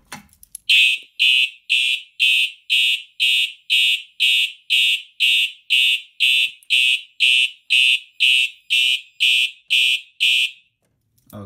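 A loud electronic fire alarm horn, set off by a Simplex T-bar pull station, blares in a steady pulsing pattern, about sixteen evenly spaced shrill blasts, then cuts off abruptly.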